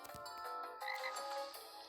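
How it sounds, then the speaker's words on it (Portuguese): Frogs croak in overlapping rattling calls, a dense chorus that is faint and continuous for a couple of seconds. "Os sapos."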